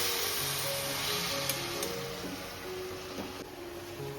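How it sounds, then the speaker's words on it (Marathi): Mixed vegetables stir-fry in an open pan, giving a soft, steady sizzle with a low hum of background noise and a few faint scrapes, heard without speech. "मस्त परतून घ्यायची."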